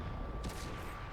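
A single muffled tank cannon shot from World of Tanks cracks out briefly over a dense, steady rumble of battle ambience.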